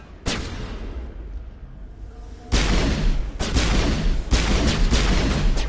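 Grenade blasts in Mass Effect land amid ongoing combat: a sharp boom near the start, then louder, heavier bursts that roll on with further impacts over a dense, noisy battle din.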